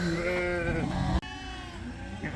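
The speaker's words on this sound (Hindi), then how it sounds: "ये भी स्पेनिश गोट है" Spanish goat at a Dallas, Texas cattle farm bleating: one loud, drawn-out harmonic bleat up close, then a fainter wavering cry against steady farmyard background noise.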